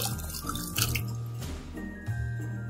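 Water drips and splashes from washing a toy Dilophosaurus dinosaur, close and clear, with a few distinct drip sounds over running water.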